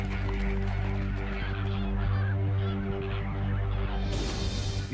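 A tightly packed flock of flamingos calls in alarm, a dense, continuous honking and goose-like clamor that stays loud and steady throughout, with a brighter hiss rising near the end.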